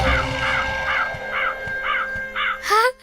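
A crow caws repeatedly and loudly, close by, in a steady run of about seven harsh calls ending in a rising squawk.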